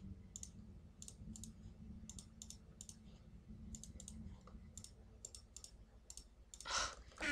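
Computer mouse clicking during Minecraft play, a series of sharp, close, quiet clicks in irregular bursts over a low background hum, ending with a brief louder rustle.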